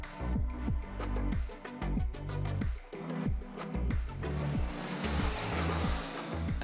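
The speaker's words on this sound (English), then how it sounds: "First, we take the standard blue BMW F800R on the highway." A standard blue BMW F800R motorcycle riding on the highway, its engine note repeatedly rising and dropping through gear changes, close and fairly loud, with steady wind and road rumble underneath and no talk.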